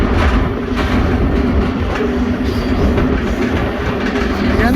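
A train rolls steadily along the rails, its wheels keeping up a continuous rumbling clickety-clack at close range with no voices over it.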